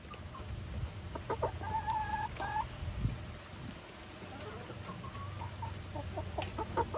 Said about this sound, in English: Jane, I think you have become the largest chicken.